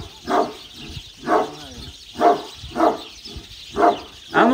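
A dog at a home barks in a steady series of six loud, close barks, each about a second apart, with no talking over them.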